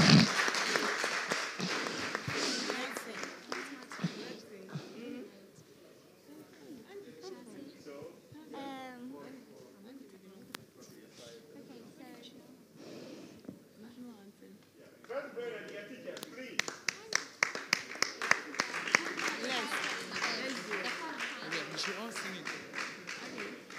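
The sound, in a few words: round of applause from the audience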